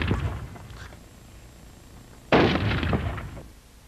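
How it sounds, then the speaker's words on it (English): A Remington 788 rifle in .308 caliber fired without a muzzle brake: one loud, sharp report lands partway through and rings off briefly, after an earlier fainter burst of noise. "This Remington 788 fires 308 caliber, shown here without the mill break, and now with the DTA mill break."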